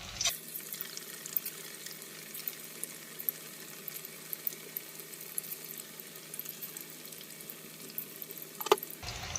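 Chicken pakodi frying in hot oil, a steady, fine crackling sizzle running evenly throughout, close and fairly quiet, ending with a brief clatter, no voices.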